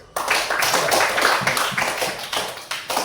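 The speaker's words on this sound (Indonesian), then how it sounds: "Tepuk tangan dulu." Children in a classroom clap their hands together in a brisk burst of applause that carries on for a few seconds, loud and close.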